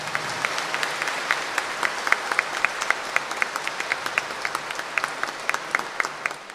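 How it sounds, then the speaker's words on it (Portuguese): Congregation applauding during an Easter Mass at the Saint Jude Thaddeus sanctuary church: a steady patter of many hands clapping at moderate distance, sustained evenly throughout with a slightly roomy, reverberant feel. "Uma salva de palmas."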